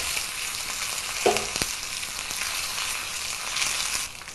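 Mustard seeds and curry leaves sizzle in hot oil for a tempering, with a steady, bright crackle and a few sharp pops, close and alone.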